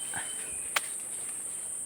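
Crickets chirp at night beside rice fields, a steady faint high-pitched trill running throughout, with a single brief louder click partway through.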